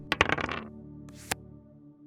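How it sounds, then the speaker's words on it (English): A die is rolled onto a table, a quick rattling series of hard clicks tumbling to rest, then a brief pause before a single short snap as a playing card is flipped over. "I'm going to roll a dice and then flip a card over"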